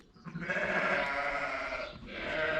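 Ewes bleating at feeding time, one loud, close, drawn-out bleat followed by a second after a short break, with no talk.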